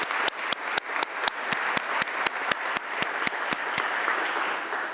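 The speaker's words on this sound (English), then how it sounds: "So again, let's give a clap for all of our staff" Applause at the opening of a 2023 legislative session chamber for a senator's staff: a run of loud, sharp, evenly spaced claps that merges into broader crowd clapping toward the end.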